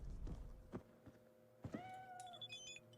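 A cat in the Cyberpunk 2077 video game lets out a single clear, close meow after a few soft thumps, with a quiet background.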